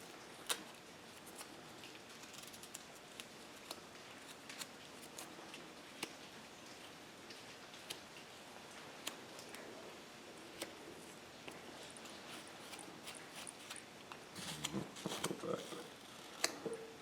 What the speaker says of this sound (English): It's a big feather, and I'm going to cut it down just a little